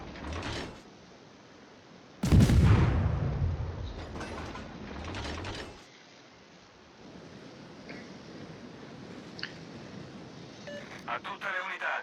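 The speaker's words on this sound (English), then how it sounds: "I'm going to go ahead and put some shells in the air" Naval guns fire from a battleship in a naval combat game, one heavy booming salvo followed by rumbling, then quieter mechanical clanks and ambient battle noise.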